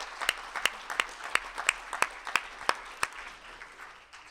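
Applause from a conference audience at a talk on human technology ethics, a brief spell of distinct sharp claps that thin out and fade within a few seconds, heard at moderate distance without speech.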